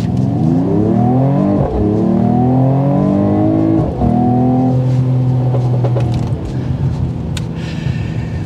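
2024 Mercedes-AMG GT53 accelerating through rising and falling engine revs with gear changes, close and loud, ending in a few sharp exhaust pops.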